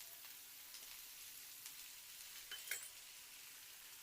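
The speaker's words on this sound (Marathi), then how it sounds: "एकदा फक्त ही फोडणी ह्याला लागू दिली कांद्याला, कांदा परतून." Onion fries in a spiced oil tempering, hissing and sizzling softly and steadily throughout, with a brief faint clink near the end.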